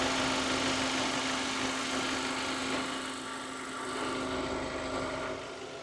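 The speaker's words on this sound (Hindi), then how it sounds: "तो इसका जो डीजल इंजन है उसका साउंड आप सुन सकते हो" A Kia Sonet HTK Plus diesel manual idles, a steady close diesel rumble with a constant hum that dips slightly partway through, with no talking over it.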